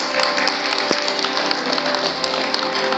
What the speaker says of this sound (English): Let us give ourselves a round of applause, please.